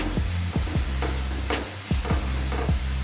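Vegetables and boiled shredded chicken stir-fried in a pan for spring roll filling, with a steady sizzle and repeated scraping strokes of a spatula in an even rhythm, close and moderately loud, no voices.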